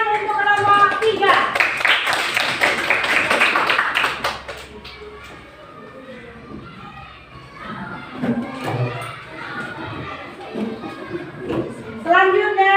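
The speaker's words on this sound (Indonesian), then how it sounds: "Kasih tepuk tangan untuk kelompok 3." Classmates in a school classroom clap for a student group, a lively burst of hand claps for about four seconds, followed by quieter shuffling and a teacher speaking.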